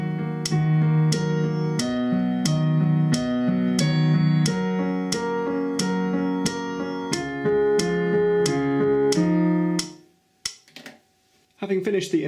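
A piano plays a riff at 90 bpm, with steady repeated chords and melody notes struck in an even pulse, loud and close, ending abruptly with a few faint sounds after.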